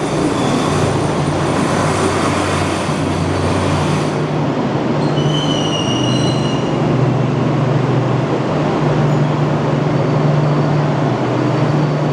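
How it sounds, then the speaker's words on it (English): An Enoshima line electric train in Japan rolls past at close range, a steady loud rumble of wheels on rails with a low hum and brief high metallic squeals midway. "And here comes the Enoshima train. Enoshima line train here. So-called electric train."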